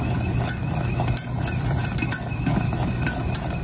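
Cooked chocolate frosting simmers at a low boil in a large pan while a spoon stirs it steadily, with a continuous bubbling hiss and light scraping clicks against the pan.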